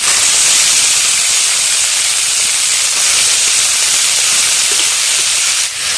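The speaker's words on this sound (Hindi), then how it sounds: "इस तरह से चला के कर लेते हैं हम टमाटरों की फ्राई अच्छे से।" Tomatoes frying in a pan, a loud, steady hissing sizzle that holds evenly throughout with only a slight dip near the end.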